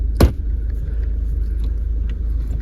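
Ford Kuga 1.5 TDCi diesel with a six-speed manual gearbox idles steadily after a push-button start, a low continuous rumble following a brief sharp transient at the start.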